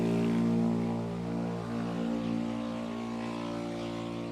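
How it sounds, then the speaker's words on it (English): A small moped with a modified muffler passes by with a loud, droning engine note that fades slightly as it goes, steady and harmonic, with no voices over it. "that was really loud for a little tiny moped"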